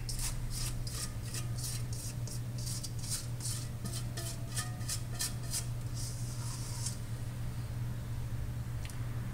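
A spatula scraping black Russian cake batter down the sides of a mixing bowl, a run of quick rhythmic rasping strokes over a steady low hum, then a longer smear and quiet.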